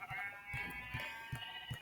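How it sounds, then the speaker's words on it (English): Minecraft sheep bleating in a short series of quiet, repeated baas at a steady rhythm over a faint hum. "I'm just gonna spawn some sheep."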